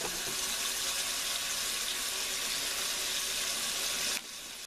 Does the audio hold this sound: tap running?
yes